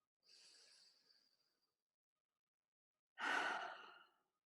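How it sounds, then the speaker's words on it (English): Two long breaths, one slow soft exhale followed after a pause by a louder, breathy sigh-like exhale through the mouth, close and quiet, with no talking. "take a few long breaths and breathe in through your nose and out through your mouth"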